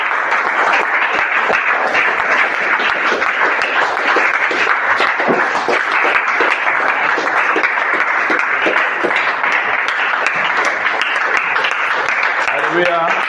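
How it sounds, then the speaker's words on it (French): A church congregation stands and applauds in praise of the Lord, sustained dense clapping filling the room at a steady level throughout, with voices mixed in beneath the applause. "Levons-nous en acclamant pour le Seigneur."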